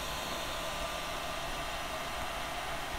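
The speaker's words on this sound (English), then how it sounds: "So I used a hairdryer to dry the PVA glue a little bit faster." A hairdryer blows on PVA glue on a resin art diorama, giving a constant, loud, broadband whoosh with a steady motor hum, running unchanged for the whole stretch with no voices.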